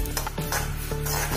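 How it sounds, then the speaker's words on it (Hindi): Sesame seeds crackle and pop as they dry-roast in a hot kadhai, a steady close sizzle with scattered ticks and faint scraping of a stirring spoon, no talking. "अब ये चटकने लगी है तिल अपनी।"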